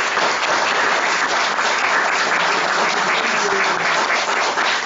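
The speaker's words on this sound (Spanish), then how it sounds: "Propongo un aplauso para usted." Dense, steady applause from an assembly marking the end of a 33-day hunger strike, many hands clapping evenly and close, with no talk over it.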